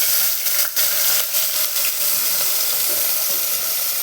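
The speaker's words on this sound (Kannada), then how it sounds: "ನೆಕ್ಸ್ಟು ಹೆಚ್ಕೊಂಡಿರೋ 2 ಈರುಳ್ಳಿನ ಹಾಕ್ತಾಯಿದ್ವಿ" Chopped onions go into hot oil and fry with a steady, bright crackling sizzle, close and continuous, broken by a few brief clattering stirs, with no one talking.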